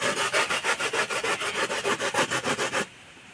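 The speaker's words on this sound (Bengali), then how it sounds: "এই যে আমি একটা ফুটো থালা নিয়েছি, ফুটো থালাতে ঘষতে নেব, মানে কুড়ে নেব" Elephant foot yam is rubbed back and forth across a sharp perforated metal plate, making a close, rhythmic series of about fifteen rasping strokes that stop abruptly near the end.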